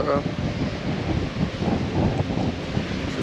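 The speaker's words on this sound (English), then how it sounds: "Wind was so hard that my watch gave me a loud environment report." Strong wind gusting outdoors on a winter walk around Playa de Las Americas in Tenerife, Spain, a loud continuous rumbling roar buffeting the microphone, with a brief higher whoosh at the start.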